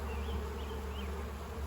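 Honeybees buzzing on a hive frame, a dense, steady drone of many bees close to the microphone, unbroken throughout with no talking.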